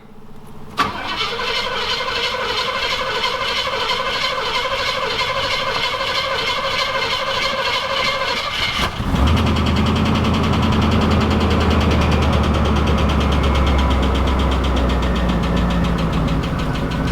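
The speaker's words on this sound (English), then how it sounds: "It fired up fairly quick. Sure has a loud lifter tick." A 1986 Oldsmobile Cutlass, left sitting for months, cranks briefly and fires, then settles into a loud, rough idle with a persistent rapid lifter tick throughout.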